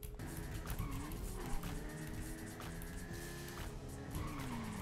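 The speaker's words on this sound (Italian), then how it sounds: "una bella moto, vai che questa va veloce" A motorcycle speeding in the video game GTA Online, with an engine whining and rising in pitch, plus tire squeals over a busy, steady game soundscape.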